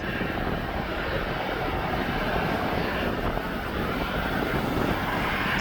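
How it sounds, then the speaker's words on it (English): Aircraft at East Midlands Airport producing a loud, steady broadband engine roar with wind-like rush, unchanging throughout and without speech. "what a lovely aircraft this is"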